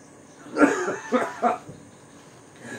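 A single person coughs in a short burst of three harsh, closely spaced coughs, heard alone and near against a quiet background.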